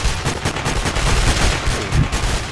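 Rapid bursts of gunfire from the Sniper Ghost Warrior video game, loud and close, with repeated sharp reports packed tightly together and no talk over them.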